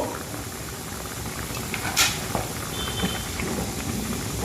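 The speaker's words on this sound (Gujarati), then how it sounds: "આપણું પાણી ઉકળી ગયું છે સબ્જી સાથેનું." Water boiling with vegetables in a pot for tomato pasta soup, a steady dense bubbling hiss with a few soft pops and clicks throughout.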